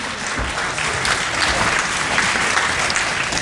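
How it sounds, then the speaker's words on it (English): Steady applause from a wrestling crowd, a dense wash of clapping that holds at an even level throughout. "Appreciative applause from the crowd here."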